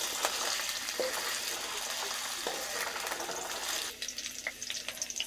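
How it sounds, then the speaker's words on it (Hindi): Potato, cauliflower and carrot fry in hot oil with a steady close sizzle and occasional light stirring clicks, and the hiss grows choppier near the end. "अब इन सारे सब्जियों को हम हल्का सा एक कलर आने तक भून लेंगे"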